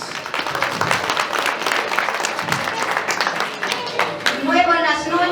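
Guests at a wedding reception in Jauja applaud with steady, dense clapping that swells and thins, and a voice starts speaking as the clapping fades.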